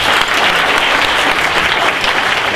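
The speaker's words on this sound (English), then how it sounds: "Round of applause." Sustained applause from an audience at a youth coding event show and tell, dense and loud throughout with no pauses.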